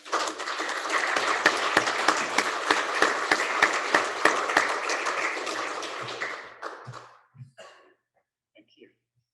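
An audience at a chamber of commerce awards luncheon applauds loudly with dense clapping for about six seconds, then it fades out into a few scattered claps and near silence.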